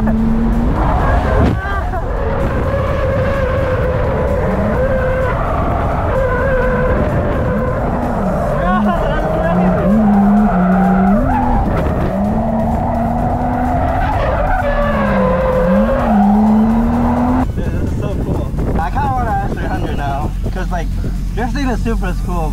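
A Toyota GR Supra drifts with loud sustained tire squeal sliding up and down in pitch over the engine's roar, continuing for many seconds before fading into general track noise.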